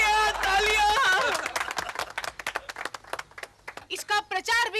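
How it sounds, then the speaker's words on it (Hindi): An audience claps for a comic stage performer, with a burst of scattered, fairly close hand claps that follows a loud voice and swells again at the end. "तालियां"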